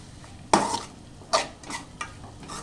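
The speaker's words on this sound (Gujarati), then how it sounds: "હવે આને આપણે જ્યાં લગી બધું મિક્સ ન થાય ત્યાં લગી હલાવશું" Flattened rice (poha) is stirred in a pan until mixed. Several soft scrapes of a spoon against the pan, irregularly spaced, sit over a faint sizzle in a quiet kitchen.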